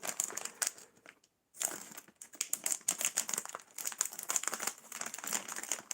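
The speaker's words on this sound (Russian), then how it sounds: "Берем, делаем обрезание пакету." A plastic instant noodle package being cut open and handled: dense, close crinkling and rustling in irregular bursts, with a brief silent pause near the start.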